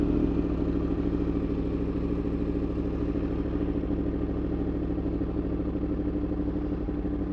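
A Yamaha R1 sport motorcycle engine running at a steady idle after startup, a loud, continuous close-up rumble with an even throb and no talk over it.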